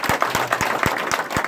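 An audience claps together at a speaker's event, a brisk rhythmic applause of evenly spaced, fairly loud claps over a soft crowd wash, with no clear talk.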